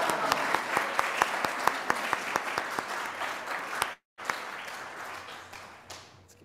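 Congregation at a Unitarian Universalist church claps warmly to welcome new members, with several sharp individual claps standing out early, a brief cut in the middle, then the applause resuming and fading out.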